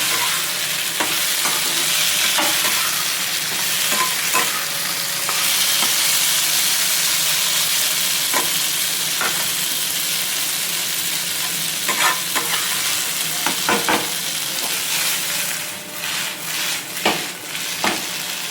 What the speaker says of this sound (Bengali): এইভাবে নাড়িয়ে দিলে জিনিসটা সব জায়গায় লাগে। ছোটো কড়াই তো আমার।